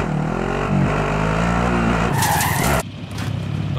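Vehicle in Call of Duty Warzone driving with a loud, continuous engine roar, then tires skid and screech before the sound cuts sharply to a lower rumble, no speech.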